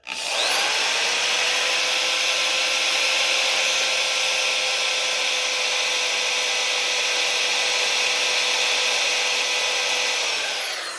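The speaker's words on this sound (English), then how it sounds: "So we're going to drill this one" A loud, sustained electric drill whine running steadily for several seconds, close up, drilling metal for a big block 565 engine valley screen, with a grinding, cutting texture and no speech.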